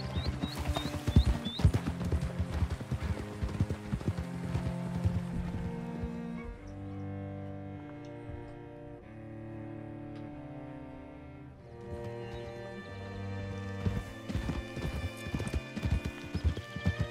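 Horse hooves clip-clopping in the video game Red Dead Redemption 2, a steady rhythmic trot with neighs and whinnies, easing into a slower walk midway, then picking up again, with music underneath and no talk.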